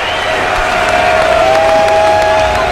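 Cricket crowd at an Australia vs West Indies 2007 World Cup match cheering and applauding a century by Matthew Hayden, a steady loud wash of applause and cheers throughout, with a faint tonal whistle or horn line running over it.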